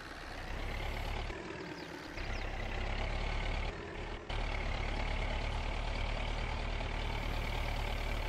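A tracked crawler tractor in Farming Simulator 22, stuck in mud and pulling against a tow cable, drones with a loud, steady low engine roar that strains throughout, dipping briefly twice.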